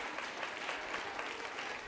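An audience at a college quiz show claps steadily in a faint, continuous wash of applause lasting a couple of seconds.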